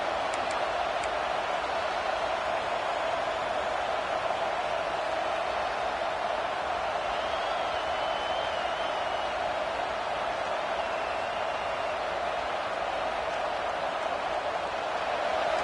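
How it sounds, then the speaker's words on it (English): A large college football stadium crowd roars continuously with a steady wash of cheering and noise, loud and sustained throughout. "It's early, but this crowd is fired up. Listen to this noise here."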